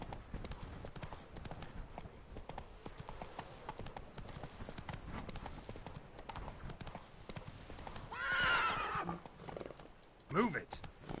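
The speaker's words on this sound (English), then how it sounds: "So we're taking the horse." Steady hoofbeats of a horse at speed in The Witcher 3: Blood and Wine run throughout, joined near the end by a sharp whinny, with game ambience and some speech mixed in.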